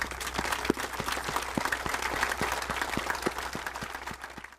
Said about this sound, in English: So I want to give you guys a round of applause for being such great Americans.